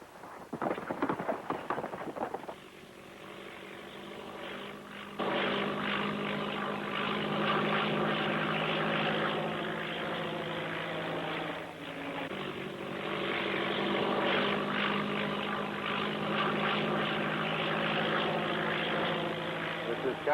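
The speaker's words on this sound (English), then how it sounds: "where's this plane coming from?" A propeller airplane drones steadily overhead for a sustained stretch, loud and continuous with a rumbling, throbbing tone, while a brief voice and clattering are heard at the very start.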